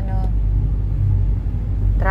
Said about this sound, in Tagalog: traffic is real.